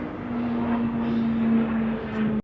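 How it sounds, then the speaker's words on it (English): An airplane flies low overhead in Los Alcázares, its engine a sustained loud drone with a steady tonal hum that holds for a couple of seconds before cutting off. "All these planes flying over my head."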